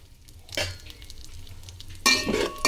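Melon seeds frying in a pan over a low flame, a soft steady sizzle with a stirring scrape, then a louder burst of sizzling and clinking near the end.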